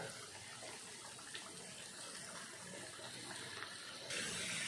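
Water poured into a pan to simmer rendang meat, a soft steady splashing pour that stays faint and continuous and grows slightly brighter near the end, heard alone.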